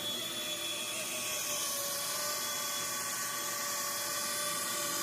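An RC ERA BO-105 model helicopter in flight gives off a faint, unbroken electric whine from its motor and rotor, holding a steady pitch throughout.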